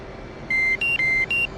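A cockpit warning in the DCS flight simulator game sounds as four sharp electronic beeps, alternating between two pitches in quick succession over a low background hum.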